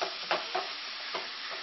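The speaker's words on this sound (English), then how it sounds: "And as the turkey cooks, it will start to crumble, which is exactly what we're going for next." Ground turkey with basil and spices cooking in a skillet, a soft steady sizzle broken by a few scraping stirs of a utensil against the pan, close and fairly quiet, with no talking.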